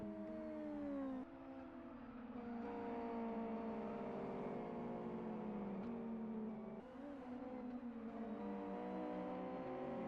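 Race cars in Live for Speed brake into a corner, engines whining in steady tones that step down in pitch at intervals as they downshift, loud and close throughout.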